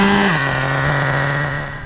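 The nitro engine of a Traxxas Slayer Pro 4x4 RC truck warms up with a loud, buzzy, high-pitched whine heard close. Its pitch drops after a moment and then holds steady.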